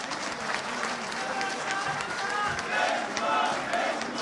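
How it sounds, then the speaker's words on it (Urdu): Crowd applauding and cheering for Imran Khan as he is invited to speak at a traders union gathering in Islamabad, a dense, steady roar of clapping with voices mixed in throughout. "تالیاں"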